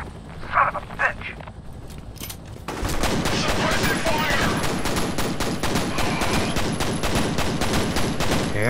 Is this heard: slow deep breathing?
no